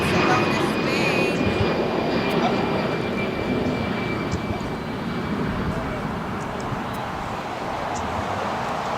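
Iberia's LEVEL airliner out of Barcelona at Los Angeles International Airport, its steady jet engine roar filling the clip at close range and holding a broad, even rumble with a thin whine above it throughout.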